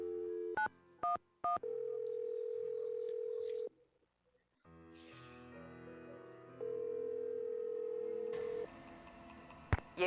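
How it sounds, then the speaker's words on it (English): Telephone keypad tones dialing 911 in the Nancy Drew: The Final Scene video game, with three quick beeps and then a long steady tone, a pause, crackling line noise and another sustained tone, all clear and close. "Okay, I'll call 911."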